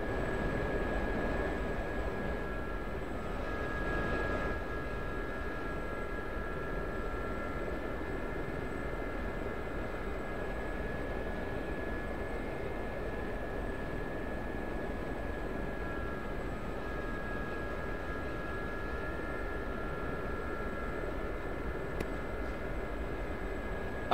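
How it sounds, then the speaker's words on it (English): A Huey helicopter rotor in the DCS flight game drones steadily at a distance, a low, even thrum with faint tonal whine running unbroken throughout. "I can hear that noisy rotor from that Huey up here."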